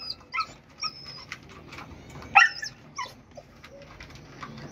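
A young Malinois puppy whimpers and yips in short, high, wavering whines, several separate cries spread across the moment with a sharper burst near the middle, close by against a quiet background.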